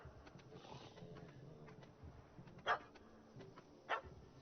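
In The Witcher 3: Hearts of Stone, a puppy that chased a cat up a tree gives two sharp, separate barks, spaced about a second apart over a quiet outdoor game ambience with faint insect-like buzzing.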